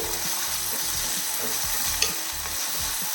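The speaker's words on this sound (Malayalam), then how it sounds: "ഇതൊന്ന് വഴറ്റി വിട്ടട്ടെ" Small onions, some cut in half, sauté in a hot pan with steady close sizzling and occasional stirring scrapes, with no talking.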